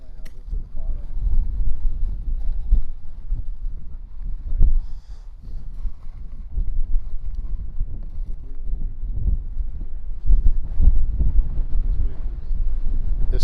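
Wind buffets the microphone at the Kilauea volcano eruption site, producing a loud, continuous low roar with gusty surges throughout.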